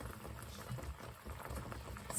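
A covered pot holding a Jamaican-style pork leg steams and simmers, giving a steady low bubbling and hissing that stays close and even throughout, with no voices.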